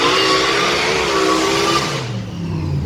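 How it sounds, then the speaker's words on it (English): A small turbocharged drag car engine revs hard nearby at the drag strip, a loud rising whine with turbo whistle before the note drops away near the end. "Did you hear that turbo on it?"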